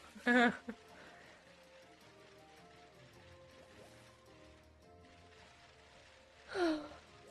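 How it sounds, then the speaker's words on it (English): Two drawn-out human yawns from a tired person, one near the start and one near the end, each a breathy, rising-then-falling voiced exhale, close and clear over quiet background game music. "Sorry I'm yawning."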